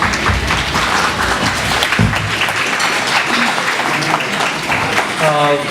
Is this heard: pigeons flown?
no